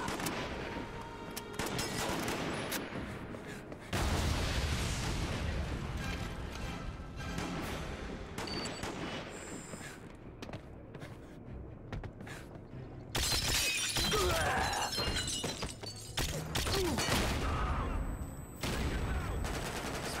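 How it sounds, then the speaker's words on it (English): Repeated loud explosive blasts and crashing bursts, with debris-like shattering noise, come in heavy waves over a continuous roar of action in the PC game Quantum of Solace. "Explosions!"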